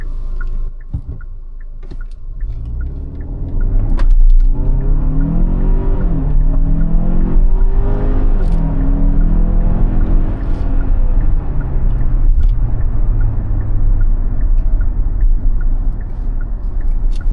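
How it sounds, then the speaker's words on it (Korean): A 2022 Hyundai Santa Fe MX5 with a 2.5 gasoline turbo, 280 hp, accelerates hard in sport mode, engine note rising steadily in pitch through the gears with a loud, continuous roar and steady road rumble underneath. "일단은 가속 테스트를 먼저 조금 해 보겠습니다. 스포츠 모드에 넣고요."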